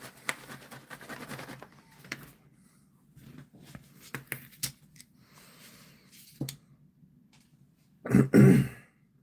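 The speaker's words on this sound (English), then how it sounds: "Sorry, I'm having a terrible cough." A single harsh, loud cough-like throat sound near the end, after quiet scratching and small handling noises.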